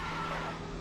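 A race car in RaceRoom skids during a spin-out, giving a brief, continuous tire-scrubbing roar with a steady engine drone, close and loud throughout.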